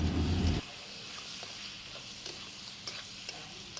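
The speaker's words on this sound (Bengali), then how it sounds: "আগে থেকে ভেজে রাখা যে চিকেনগুলো সেগুলো আমি দিয়ে আবারও সব কিছু ভালো করে মিশিয়ে নেবো" Fried chicken is stirred into sauce in a pan: a loud rustling clatter at first, then a quieter steady sizzle with a few light utensil taps, close by and without talk.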